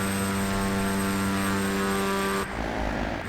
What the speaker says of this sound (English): So I am going to slow the props down as much as possible.